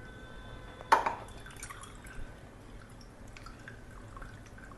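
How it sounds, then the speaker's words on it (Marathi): Liquid from soaked coriander stalks drains through a kitchen sieve, giving one sharp close splash followed by faint, sparse drips in an otherwise quiet room. "हे आपण गाळणीने गाळून घेणार आहे"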